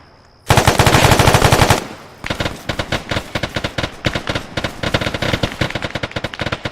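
Sustained machine gun suppression fire in a military video game: a dense continuous burst, a brief pause, then a long run of rapid, loud, sharply spaced shots close by, with no talk.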